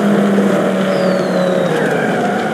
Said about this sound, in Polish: O, teraz drift na hamulcu.